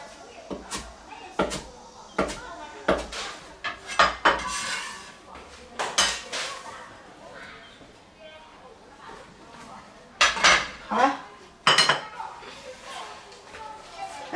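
A cutting board is fetched and set down in a kitchen as cooking gets underway, producing a series of knocks, clatters and wooden thumps, with people chatting around the clatter.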